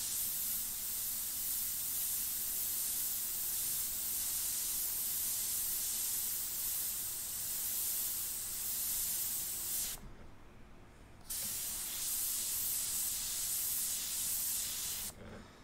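An airbrush sprays paint in a steady, hissing stream for about ten seconds, pauses briefly, then resumes spraying before stopping, close and fairly quiet.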